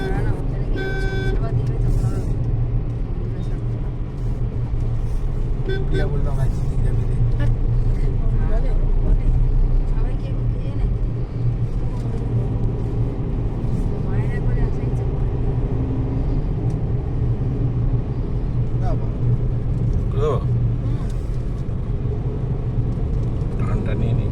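A car drives along a tree-lined road near Jhargram. A steady engine and road rumble runs throughout, with a brief horn-like toot near the start and faint passing sounds over the continuous drone.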